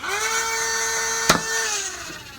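A Nerf flywheel blaster with 132-size motors on 7.4 volts holds a steady high-pitched whirring rev, broken by one sharp snap as a dart fires mid-clip before the whine continues.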